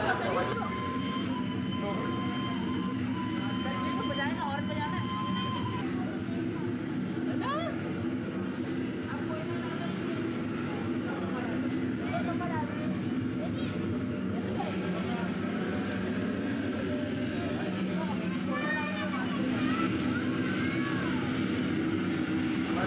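A steady, loud rumble of a moving train on a ride at the Rewari heritage steam loco shed, continuous and close throughout with faint tonal squeals riding over the low roar.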